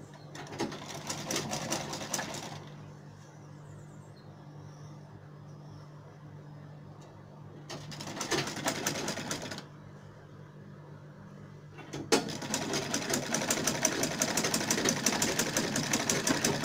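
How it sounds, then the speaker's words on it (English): A sewing machine stitches fabric for a front-zipper pencil skirt, running in loud steady bursts that stop and restart, with quieter pauses between the stitching runs. "Always remember to back stitch at the beginning and the end of all your sewing."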